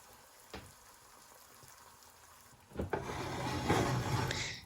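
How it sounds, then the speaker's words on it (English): Eggs fry sunny side up in a cast iron pan, starting as a faint, quiet hiss with a small knock, then a clatter gives way to a louder, fuller sizzle that keeps building. "here you see the eggs starting to cook, and they're bubbling"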